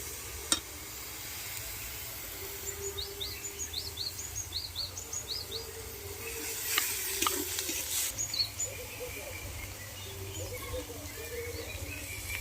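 Onion paste with ginger-garlic paste being stirred and fried in a pan over a clay stove in a village kitchen, a faint soft sizzle with occasional scraping, while birds chirp nearby.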